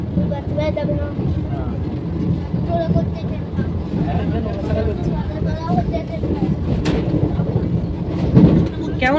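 Inside a compartment of the Vande Bharat Express from Howrah to Puri, the train runs with a low continuous rumble and rattle. People talk over it the whole time, and one brief knock rises near the end.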